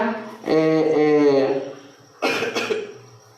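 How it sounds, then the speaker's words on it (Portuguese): A person recovering from Covid coughs up close: a rough, voiced hacking cough, a pause, then another harsh cough burst. "Desculpa que eu tô tossindo, que eu tive Covid"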